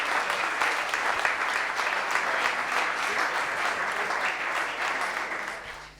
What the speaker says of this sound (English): give a warm round of applause to our super ranger from Vienna